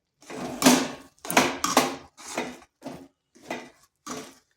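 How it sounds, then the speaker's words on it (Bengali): A spoon stirs semolina with water in a pot into a stiff dough: about seven separate scraping, thudding strokes in an uneven rhythm, close and fairly clear, with short silences between them. "এভাবে নাড়তে নাড়তে শক্ত ডো তৈরি করে নিতে হবে"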